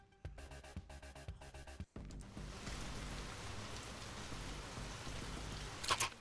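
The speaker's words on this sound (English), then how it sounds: "I definitely hear the rain" Rain falls at night in Italy, a dense, steady hiss of drops on surfaces that sets in after a few brief tonal knocks and stays even and fairly quiet to the end.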